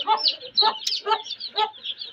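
A hen, an Aseel breed kept with newly hatched chicks, clucks in four distinct, evenly spaced bursts, close and fairly loud, with no talking over it.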